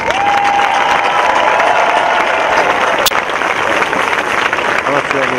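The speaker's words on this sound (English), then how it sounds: "you can get a well-deserved round of applause" Steady applause from a large audience at a high school graduation ceremony fills the room, with a few cheers and a brief tone, continuing without pause.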